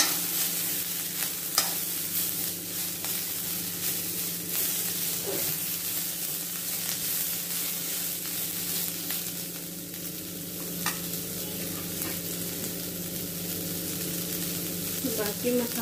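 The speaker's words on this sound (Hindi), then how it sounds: "थोड़ा भूनूंगी और ये थोड़ा इसको मतलब भूनने देती हूँ और आवाज आएगी उसमें ऐसे।" Prawns fry in a pan with onion on a home stove, a continuous sizzle running throughout with occasional stirring scrapes and clinks.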